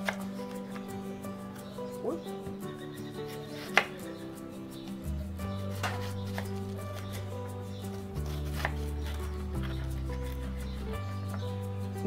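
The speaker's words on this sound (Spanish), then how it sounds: "y la cebolla en rodajitas" A knife slicing an onion into rings on a cutting board while vegetables are prepared for roast chicken on a gas barbecue; a few faint, scattered cuts and taps sound over a steady low hum.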